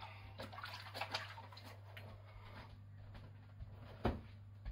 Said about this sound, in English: Quick wash hands.